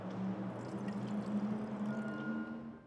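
Wine pours steadily from a bottle into a glass for nearly three seconds, a soft continuous liquid trickle heard alone and fairly quiet.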